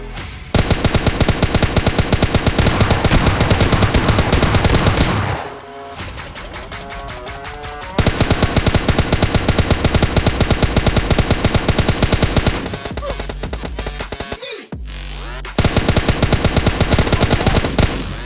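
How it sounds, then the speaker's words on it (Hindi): Bursts of rapid automatic gunfire in the mobile shooter game PUBG Mobile Lite, loud and dense, in long sustained volleys broken by short pauses with quieter game sounds between them. "यहाँ पे मैं एक बंदे को जितनी गोलियां मारता हूँ"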